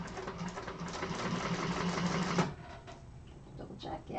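An industrial sewing machine runs a chain stitch in a fast, steady mechanical whir for a couple of seconds, then stops, leaving faint clicks and low voices in the room.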